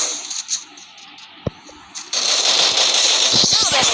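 AN94 rifle fire in the shooting game Free Fire: a few sharp isolated shots, then a rapid burst of gunfire near the end, with game ambience and speech throughout.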